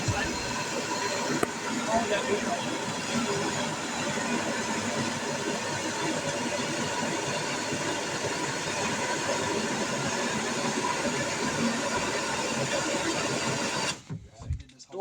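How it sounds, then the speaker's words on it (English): Air blower running steadily, pumping air into a damaged fiberglass kayak, a dense continuous whir that holds for about fourteen seconds before cutting off abruptly near the end. "I carried the air blower in."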